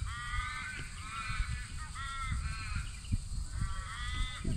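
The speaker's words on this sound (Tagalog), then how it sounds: "Ayan yung malaking ibon, guys." A large bird in Australia giving repeated crow-like caws, a series of rough calls in bursts over low outdoor background rumble, with no talk.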